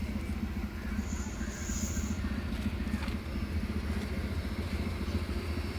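A steady low engine rumble from a 2006 Maruti Suzuki Wagon R LXi running on LPG, idling continuously throughout, with a constant mechanical drone and no one talking.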